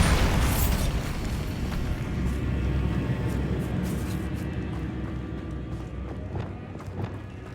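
A Bombarda spell explodes in Hogwarts Legacy with a sharp, loud blast that trails off into a long rumbling decay.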